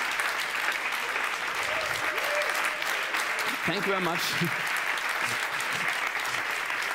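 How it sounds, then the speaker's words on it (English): Audience applause at the JuDocs Ceremony 2024, a steady, even wash of clapping throughout, with a speaker's voice briefly heard over it midway. "That's your applause."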